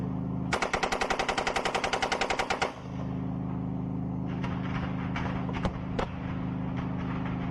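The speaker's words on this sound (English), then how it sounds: "we're firing the coaxial machine gun" Coaxial machine gun firing a rapid burst of about two seconds, close and loud, over a steady low engine rumble, followed by a few faint distant shots.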